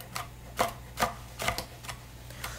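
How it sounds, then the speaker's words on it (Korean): A knife finely chopping vegetables on a cutting board for Korean potato sujebi, a string of crisp, evenly paced taps, quiet and close with no talk. "잘게 썰어주세요."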